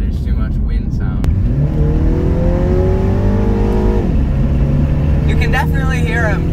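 A Mini Cooper S engine revs upward hard, pitch climbing then dropping at a gear change, under loud wind noise; a voice speaks briefly near the end.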